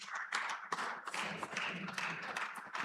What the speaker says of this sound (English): Please, can you give everyone an applause, my amazing panelists?